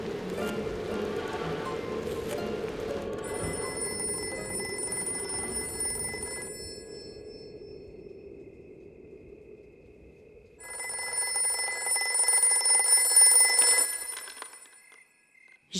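A telephone rings in two bursts of bright electronic trilling, separated by a quieter stretch, with no voices.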